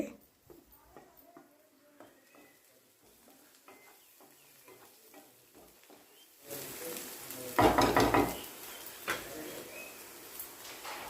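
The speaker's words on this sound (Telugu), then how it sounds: "పసుపు కూడా వేసుకొని అంతా కలపాలి" Mutton fry with turmeric is stirred in a pan: soft scraping and light sizzle at first, then a loud, close surge of frying hiss and spoon scraping partway through.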